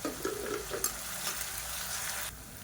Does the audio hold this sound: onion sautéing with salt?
yes